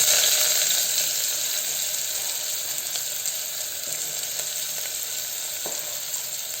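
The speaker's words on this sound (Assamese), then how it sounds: "এতিয়া আমি ইয়াত পিয়াজখিনি দি দিম" Onions sizzle in hot refined oil in a cooker while plain pulao is prepared, a steady, dense hiss that holds evenly throughout with no one speaking.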